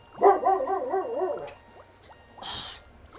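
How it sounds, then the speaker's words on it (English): A dog barks loudly indoors, letting out a warbling, wavering yowl for about a second and a half. After a short pause comes one brief, harsher burst, all fairly close with no talking. "We're such a loud dog sometimes."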